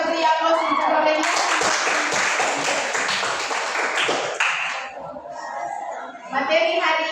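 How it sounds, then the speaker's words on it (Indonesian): A classroom of students applauds one student, with a dense burst of clapping for several seconds that thins out into scattered claps. Voices chatter around it. "Mari kita beri aplaus untuk Amelia"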